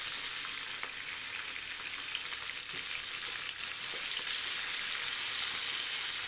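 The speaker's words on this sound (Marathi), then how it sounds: "काजू पण तळून घेऊया आपण" Cashews fry in oil for coriander rice, making a soft, even sizzle that holds steady throughout with occasional light crackles, close but fairly quiet.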